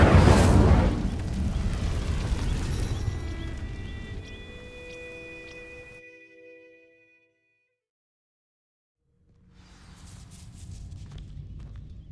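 Incendio fire spell in Hogwarts Legacy setting dry vines alight: a loud whooshing burst of flame with crackling and ringing tones, fading to silence before a quieter rumble returns.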